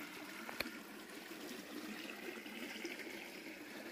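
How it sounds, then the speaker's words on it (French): A river's water flows in a faint, steady rush with no voices, sounding soft and somewhat distant throughout. "on vient de tomber sur une rivière où il y a de l'eau"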